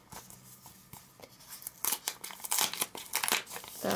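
A paper letter envelope being torn open by hand, with crinkling and ripping bursts that grow louder and denser in the second half, close up and with no talking.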